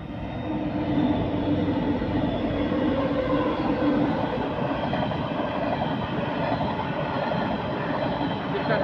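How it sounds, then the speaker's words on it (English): A coal freight train passes a station platform at speed at night in the Hunter Valley, producing a loud, steady, continuous rumble of wagons and wheels that holds for the whole stretch. "We have a coal train passing through Frankston in the Hunter Valley region."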